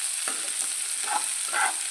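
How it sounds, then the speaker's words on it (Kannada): Onions fry in a pan with green chillies for a cowpea curry, a steady bright sizzle with a few soft stirring scrapes, close and continuous with no talking. "ಈಗ ಈರುಳ್ಳಿನ ಕೆಂಪಗಾಗೋ ರೀತಿಯಲ್ಲಿ ಫ್ರೈ ಮಾಡ್ಕೋಬೇಕು"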